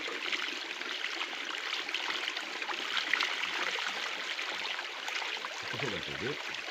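Water spilling over the brim of a freshly built storage pool used for gold panning, a steady close trickling and gurgling flow that runs continuously, with a brief low murmur of voices near the end.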